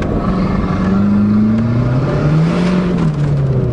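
A loud, close turbocharged Shelby Aries wagon engine accelerating, its pitch rising and sweeping as the revs climb under a rough roar.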